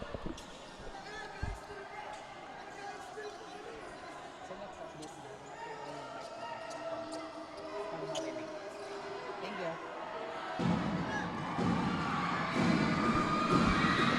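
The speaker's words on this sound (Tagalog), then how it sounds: "Hype na hype dito ang ating mga crowd" Spectators at a BUCAL Season 8 basketball game cheer and shout while balls bounce on the court and a commentator talks over them. The crowd noise swells louder near the end.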